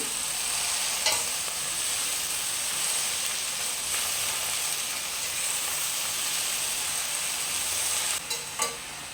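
Amaranth leaves fry in hot oil over a high flame, a steady broadband sizzle running the whole time with a few soft stirring clicks and scrapes near the end, close by and with no talking.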